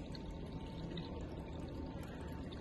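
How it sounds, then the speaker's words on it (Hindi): Coolant flows from a container into the radiator of a Tata Nano, a soft, steady trickling pour heard up close and faint. "ये रेडिएटर में अभी पानी कूलेंट डाल के चेक कर रहे"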